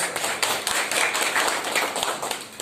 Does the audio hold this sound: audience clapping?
yes